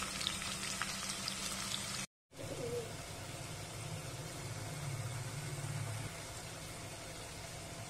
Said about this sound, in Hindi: कुछ देर से ऐसे ही फ्राई होने के लिए रखेंगे